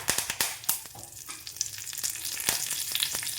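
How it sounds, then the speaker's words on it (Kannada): Mustard seeds, broken dried chilies and curry leaves are tempered in hot oil for pumpkin curry. Close, steady sizzling is broken by sharp popping crackles throughout, with no voices. "ಸಾಸಿವೆ, ಎರಡು ಒಣಮೆಣಸಿನಕಾಯಿನ ಮುರಿದು ಹಾಕ್ಕೊಂಡಿನಿ,"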